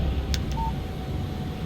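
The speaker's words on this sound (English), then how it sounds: "Text message from Barry." A phone text message alert in the video game Alan Wake, a short electronic beep-like chime heard once, fairly faint over a low background hum.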